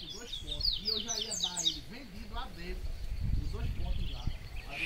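A papa-capim grego (Lined Seedeater) chirps in the afternoon at Engenho Camaço, giving quick, bright repeated twittering phrases close by, with a soft rustle and low noise underneath.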